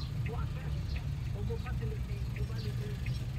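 A DE17 vehicle with an RO6 engine runs very quietly at a yard, giving a low, steady rumble with faint voices nearby.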